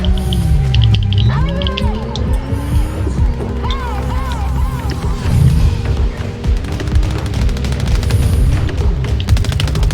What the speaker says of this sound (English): I'm going to shoot them